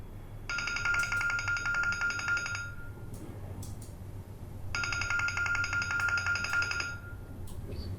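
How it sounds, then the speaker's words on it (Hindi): A phone rings in two electronic bursts separated by a short pause, clear over a quiet, low background hum. "सिद्रा का फोन है"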